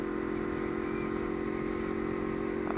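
Motorcycle fitted with an aftermarket Race Flex quickshifter, ridden in fourth gear without pulling the clutch; a steady, fairly loud engine drone runs throughout with no talking.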